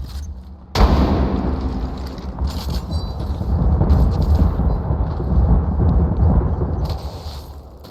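Gunfire and explosions in a shooter video game break in suddenly after a brief quiet moment. They then roll on as loud, dense, continuous booming and rattling shots.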